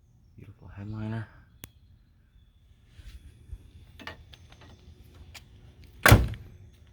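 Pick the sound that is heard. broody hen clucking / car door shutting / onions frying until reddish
car door shutting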